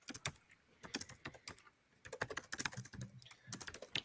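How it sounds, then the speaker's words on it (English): Several computer keyboards clatter during an election night gathering, with bursts of quick keystrokes separated by short pauses. The typing is fairly faint and steady, and no voices come through. "Oh, I hear the keyboards going."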